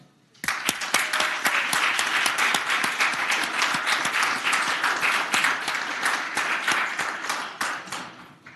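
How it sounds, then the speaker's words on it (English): Warm applause from the floor and gallery of the Virginia Senate chamber, a dense, steady clapping that starts abruptly, holds at full strength for several seconds and tapers off at the end. "we give you the warm applause of the Senate"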